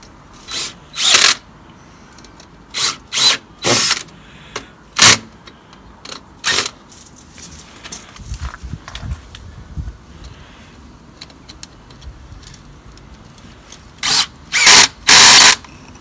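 A power tool tightens a connector on an old drain pipe in loud, close bursts of a few whirring seconds each, separated by quieter stretches with handling noise and some low rumbling.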